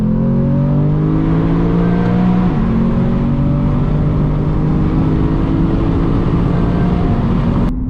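A Lexus GSF engine pulls hard through a tunnel, a loud, steady, rising drone that climbs in pitch through the gears and echoes off the enclosed walls, heard close with no talking.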